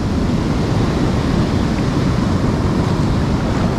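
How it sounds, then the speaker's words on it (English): Ocean surf on a beach on a rough November day sends a loud, continuous broadband wash of crashing waves, mixed with wind buffeting the microphone and no pauses. "These waves are coming in hot."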